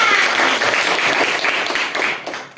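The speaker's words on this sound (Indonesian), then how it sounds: "tepuk tangan" Classroom applause during a teaching practice session in Gorontalo: a short, dense burst of many hands clapping close by, loud and even, fading slightly toward the end.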